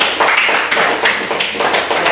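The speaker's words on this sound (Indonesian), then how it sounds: "Tepuk tangan untuk kelompok itu dulu" A classroom group claps for fellow students about to present, giving a short, dense burst of hand claps that is fairly close and continuous for about two seconds, with no talk over it.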